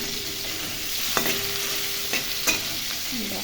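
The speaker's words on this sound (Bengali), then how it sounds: "দেখো পনির ভাজা বসিয়ে দিয়েছি।" Paneer frying in a kadai gives a steady, soft sizzle, with a few sharp clinks and scrapes of a spatula stirring the pan.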